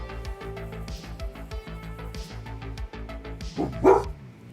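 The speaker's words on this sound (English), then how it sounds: "My Doge is barking." A dog barks in a rapid, steady run of sharp, close, fairly loud barks, with a louder burst near the end.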